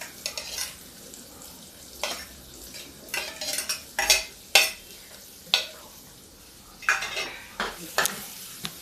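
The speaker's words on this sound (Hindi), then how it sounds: "देखिए प्याज पक रहा।" Onions frying in a pan with garlic and green chili, a soft steady sizzle broken by repeated scraping stirs of a utensil against the pan, close and moderately quiet with no talking.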